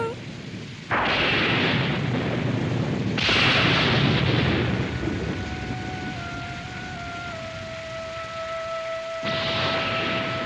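Heavy rain pours steadily in broadband roar, with loud thunder crashes breaking in near the start, around three seconds and again near the end; a faint steady tone runs beneath the downpour.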